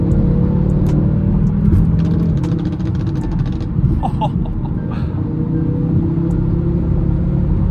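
Close, constant low rumble of road traffic while a BMW M6 or Audi RS7 pulls away, the engine drone swelling slightly, with scattered faint clicks and high chirps over the noise.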